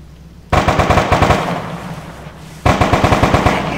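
Two long bursts of machine-gun fire in ArmA, rapid evenly spaced shots rattling loud and close, with a short pause between the bursts.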